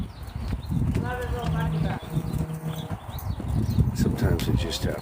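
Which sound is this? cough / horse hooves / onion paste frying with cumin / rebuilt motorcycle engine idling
horse hooves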